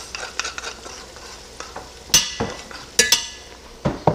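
Garlic being stirred into bacon and ground beef frying in a pan: close, crisp scraping and sizzling strokes with a few sharp metallic clinks of the utensil against the pan, no voices.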